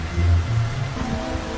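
Steady rain pours down in a forest where birds of paradise live, a broad even hiss that stays loud and constant, with a faint low rumble underneath.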